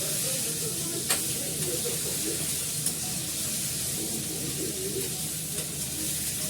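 Green peas go into a sizzling pan near the end of cooking, giving a steady close frying hiss with faint stirring scrapes and a couple of brief clicks, no talking.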